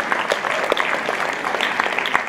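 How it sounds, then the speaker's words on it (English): Audience applause for the participants at an Idol-style talent show in Montreal, a steady wash of many hands clapping close by, with no talk over it. "a big hand of applause for all the incredible participants"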